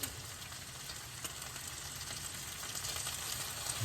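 Capers and charred garlic frying in a pan for parmigiano-crusted pork tenderloin, a faint, even sizzle that swells slightly toward the end, with no talking.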